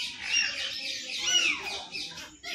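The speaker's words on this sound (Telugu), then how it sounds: "రామచిలుక ఎంత బాగుంది." A rose-ringed parakeet squawks at a zoo, giving harsh, raspy calls in a few quick bursts, moderately near and fairly faint, over quiet background noise.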